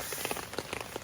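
Rain drums steadily on a tarp roof during a hike in the rain, a dense patter of close drops with a few louder taps standing out, heard alone.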